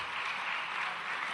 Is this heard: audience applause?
yes